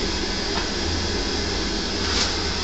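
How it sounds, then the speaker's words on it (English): Steady broadband blowing of an electric hand dryer inside a compact public toilet built into a signpost, a continuous airy roar with no pauses throughout. "And can you hear that? That's the hand dryer."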